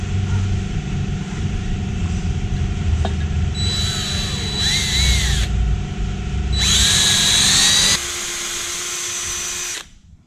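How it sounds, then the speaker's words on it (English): A power drill fitted with a drill stop bores holes in a Harley-Davidson engine case, whining in a few short high-pitched bursts that rise and fall as the bit cuts, over a steady background hum. "take your drill stop and run it all the way up to the chuck"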